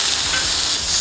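Skin-on mahi mahi fillets sizzle loudly and steadily on a Camp Chef FTG600 flat top griddle right after being flipped, a dense, close frying hiss with no voices.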